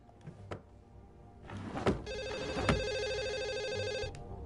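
Telephone ringing in The Assembly video game: a few dull thunks, then an electronic bell-like ring holds steady for about two seconds, moderately loud and close.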